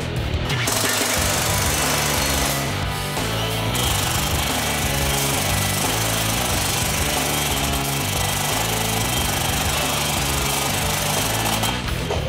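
A heavy machine fixing metro rails in place inside a tunnel, loud continuous mechanical pounding and grinding with rhythmic chattering and clanking, close and sustained throughout.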